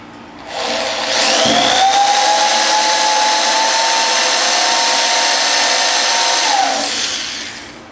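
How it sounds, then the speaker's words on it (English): A power drill with a 1/8 inch bit whines up to a high steady pitch, runs continuously for several seconds while drilling into a metal spot weld, then winds down; loud and close. "I've already got the little 1/8 inch drill bit chucked up in the drill"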